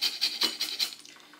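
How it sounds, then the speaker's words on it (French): Lime zest being grated off the skin surface, five quick rasping strokes in a steady rhythm, close and fairly faint, fading toward the end. "Et puis vous voyez, on vient juste gratter la surface"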